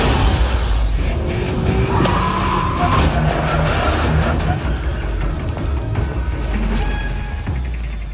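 A car slams into the rear of another car during an action-film chase, a sharp crunching impact with shattering debris over engine roar and tire noise, loud and busy throughout.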